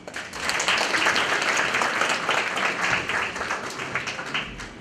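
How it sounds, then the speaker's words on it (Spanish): An audience at a university economics lecture breaks into steady applause, many hands clapping together in a dense, sustained burst that tapers slightly toward the end. "Un aplauso, por favor."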